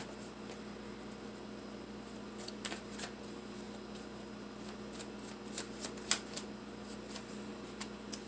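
Soft riffling and light slaps of a tarot deck being shuffled, close but quiet, with scattered crisp card snaps building toward the end over a low background hum.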